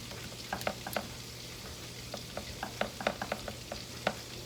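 Shrimp seasoned with all-natural seasoning fry in a pan, giving a steady close sizzle with frequent small pops and crackles over a low constant hum.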